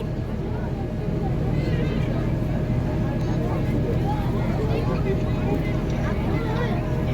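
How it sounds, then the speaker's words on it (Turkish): Steady low engine rumble and rushing water of a ferry under way from Eceabat to Çanakkale, Turkey, with a crowd murmuring throughout and no clear single voice. "Eceabat'tan feribot iskelesinden vapura bindik."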